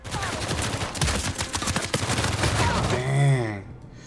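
Rapid gunfire crackles in Uncharted 4 multiplayer, a close burst of sharp repeated shots that ends in a short whooshing effect before fading to quiet.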